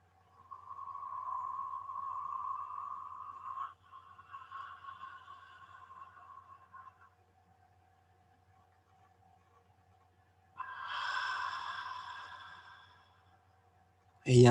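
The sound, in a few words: throat breathing, inhaling with open throat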